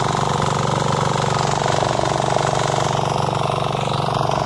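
A tractor cultivator engine runs steadily at close range, a loud, continuous mechanical drone with a fast, even chugging pulse and no voices over it.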